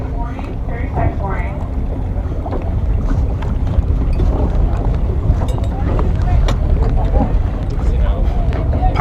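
Wind gusting across a fjord at an outdoor board race, a loud, constant rumble buffeting the microphone beneath people talking.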